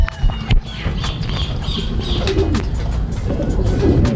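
Racing pigeons coo and flutter close by as they arrive at the loft during a derby race, amid rustling and background bustle, with brief clicks and knocks throughout.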